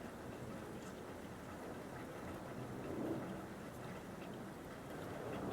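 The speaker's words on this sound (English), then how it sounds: "I wonder if the sound of the rain is getting picked up" Steady rain patters in a soft, continuous wash, low and distant, swelling slightly for a moment midway.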